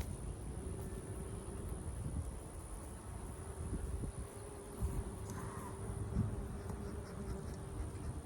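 Honeybees buzz steadily around hive frames outdoors, a continuous low drone with a faint wind-like hiss and occasional soft knocks, no talking.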